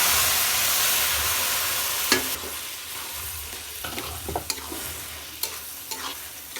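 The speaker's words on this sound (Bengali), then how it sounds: "ঘন্টটা ঢেলে দেবো।" Vegetable ghonto with kalai dal poured into hot oil with garlic and cumin: a loud hissing sizzle that gradually settles, followed by sharp scrapes and clacks of stirring up close, with no voices.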